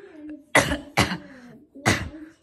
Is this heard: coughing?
yes